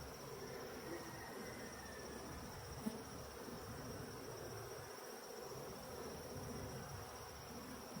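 Honey bees buzzing inside an open hive during a queen check, a steady, dense hum filling the whole span at close range with no talk.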